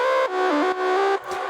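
A synth lead plays a short melody with flat stepped notes and no glide between them, a bright buzzy sustained tone, loud and alone, in a big room dance track.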